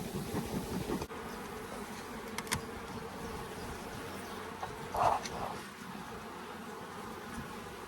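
Honey bees buzz steadily around an open hive box in a UK apiary, a dense insect drone heard up close throughout, with a brief louder swell of buzzing midway.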